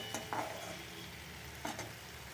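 A spice paste of black cumin, ginger and garlic frying in a pan for Bengali fish curry, giving a soft continuous sizzle with two short scraping strokes of a spatula.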